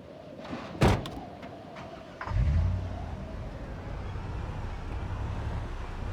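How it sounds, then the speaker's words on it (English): A noisy car in Project Zomboid, driven through a town: a single clunk like a door shutting, then a low engine rumble starts and settles into a steady, loud drone that continues to the end. "Noisy car through town."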